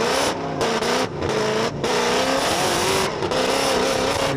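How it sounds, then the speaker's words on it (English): A twin-supercharged LS V8 in a drift car revs hard and loud, with sustained high-rpm roars broken by brief dips as the throttle lifts, tires squealing during a competition run. "Listen to that. Twin supercharged LS Raw."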